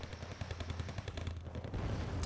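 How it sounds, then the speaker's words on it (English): Cannon fire from T-90 tanks in the Wargame: Red Dragon strategy game, a rapid series of booming shots and rattling impacts over a steady low rumble, loud and continuous. "T90's turning their cannon against them, and they will just tear them apart."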